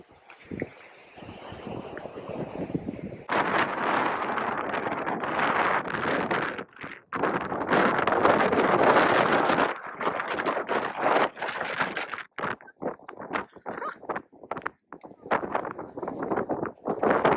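Strong wind on Belle-Île-en-Mer buffets a microphone in loud, irregular gusts, roaring and dropping out over time, with occasional clatter beneath it.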